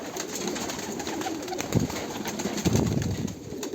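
Sialkoti pigeons give soft, low cooing calls at close range in a loft, two or three throaty coos rising out of a steady background hiss with no talking.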